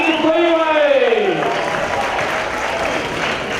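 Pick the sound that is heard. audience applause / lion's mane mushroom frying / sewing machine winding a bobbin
audience applause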